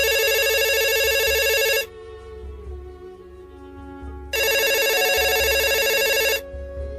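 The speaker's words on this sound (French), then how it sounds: "que le téléphone de Emma Loès sonna" A telephone rings in two long electronic bursts separated by a two-second pause, loud and close, with a low hum underneath.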